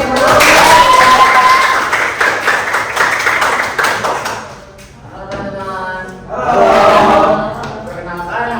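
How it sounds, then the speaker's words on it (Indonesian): A group at a teacher-training session in Jakarta claps on cue, brisk bursts of hands over the first half under raised voices, then the voices carry on with a short sung phrase as the clapping fades. "Teman-teman, berikan tepuk tangan dulu nih."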